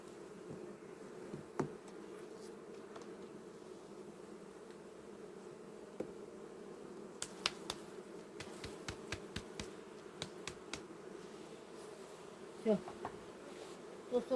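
Steady insect buzzing from many honeybees around a hive as frames are cleared, a continuous low drone with scattered soft clicks and taps over it.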